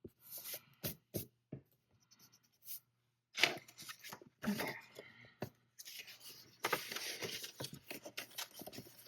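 Scissors snip and slide through paper for a reading journal, close and quiet, with irregular cuts, rustles and handling noises and no talk.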